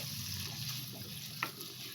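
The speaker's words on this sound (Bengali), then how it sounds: "এটাকে আমি একটু ভেজে নেব আলুগুলো ভাজা হয়ে গেছে" Potatoes fry in hot oil with a steady, moderate sizzle and one brief clink partway through, close by and without talk.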